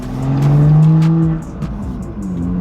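BMW M2 on a new set of aggressively fitted wheels out for a test drive, a loud steady engine drone with strong low harmonics that eases off midway, then the engine settles into a quieter hum with light road noise.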